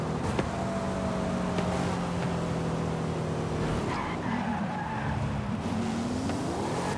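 A Corvette E-Ray fitted with a body kit drives in Forza Horizon 5, engine droning steadily while tires squeal and skid in long sustained screeches that shift pitch midway.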